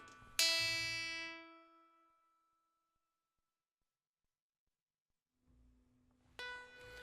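Raw output from a Braids oscillator module in a modular synthesizer, clocked by a Cartesian sequencer: a bright plucked tone that rings and fades over two seconds, then silence, then a low hum and another bright note.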